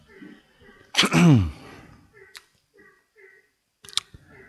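One loud, close sneeze with a sharp burst and a trailing voiced tail, surrounded by quiet talk and a few small clicks, heard during a religious lesson.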